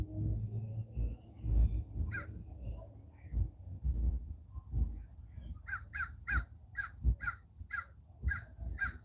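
Crow caws ring out in a regular series over the second half, about eight calls at a steady pace, following a stretch of low rumbling background noise with a few scattered early calls.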